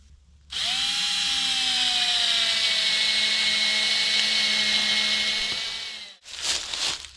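A power drill drives screws into a wooden board during a cabin repair: one long, steady, loud whine close by for several seconds, then a brief second burst after a short pause.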